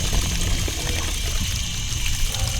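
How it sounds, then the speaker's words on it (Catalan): Water runs from a roadside public drinking fountain by an industrial estate, a close continuous splashing trickle with a low rumble underneath, heard alone. "hi ha una font i tot. Anem a provar, a veure si va."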